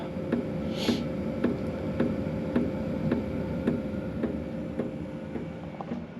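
A heater's fuel pump ticking in a steady, regular rhythm, roughly two clicks per second, over a constant low hum, close and moderately loud, no talk.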